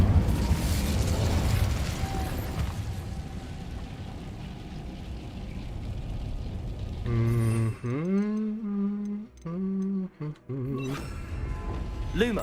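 Casting the Incendio fire spell in Hogwarts Legacy gives a rumbling, crackling burst of flame with booming, mechanical-sounding layers, loud for several seconds before tapering; a voice is heard afterward.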